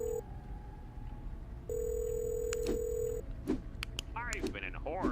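A telephone in a Sonic video game rings and beeps with steady electronic tones, followed by short warbling sounds and clicks, with a voice speaking partway through.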